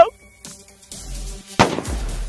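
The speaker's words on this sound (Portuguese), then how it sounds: "Com crack, com a bombinha que explode." Small firecrackers set off outdoors, with a loud sharp bang near the start, then crackling bursts and a second strong crack partway through, all close and loud, with a person's voice briefly in the mix.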